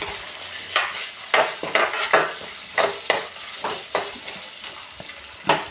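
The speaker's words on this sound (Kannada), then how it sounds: "ಹಸಿಮೆಣ್ಸಿನ್ಕಾಯಿ ಚೆನ್ನಾಗಿ ಹುರ್ಕೋಬೇಕು." Green chillies fry in oil in a pan under a soft continuous sizzle, while a spoon scrapes and stirs in about a dozen quick, separate strokes, close by and with no talking.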